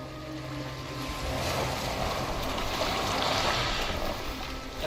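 A boat glides across water in Assassin's Creed Valhalla, a steady rushing wash and lapping that swells slightly midway and holds throughout, with no one talking.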